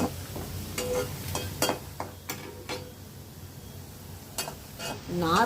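Sago pearls are stirred in oil in a pan, giving a string of quick scraping and tapping strokes over a low sizzle, close by, with a faint voice-like murmur near the end.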